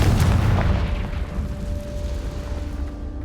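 A Confringo fire spell bursts in Hogwarts Legacy, a loud, dense low boom right at the start that rolls into a sustained rumbling tail with a faint steady tone running beneath.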